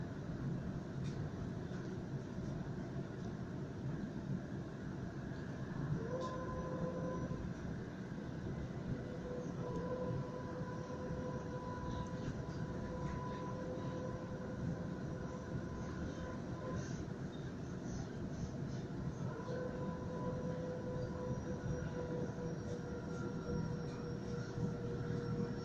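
A Sydney suburban train runs between Kingsgrove and Sydenham, heard from inside as a steady rumbling roll with wheel and track noise and drawn-out tonal whines rising and holding throughout, with no talk.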